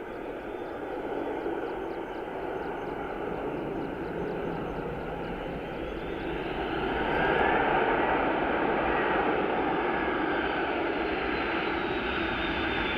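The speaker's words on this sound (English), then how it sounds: "So this is our A330 in from Faro." An Aer Lingus Airbus A330 arriving from Faro descends through cloud to land at Dublin Airport, its broad jet roar steady and fairly near, swelling slightly partway through, with no voices.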